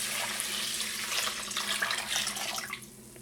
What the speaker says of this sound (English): put it into the bowl and use cold water and soak the lentils